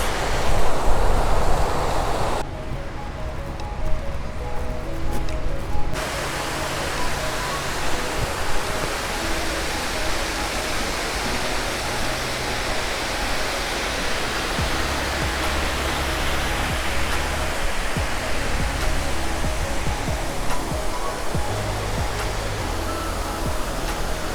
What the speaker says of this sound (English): now we are in the Giardino delle Cascate, the garden of the waterfalls